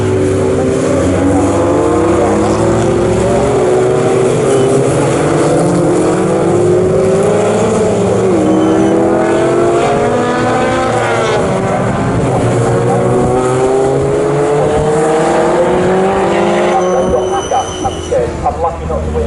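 Lotus Elise race cars lapping Snetterton circuit in an Elise Trophy race, a continuous engine drone with rising and falling pitch sweeps as cars come off the back straight toward Brundle, running under steady race commentary.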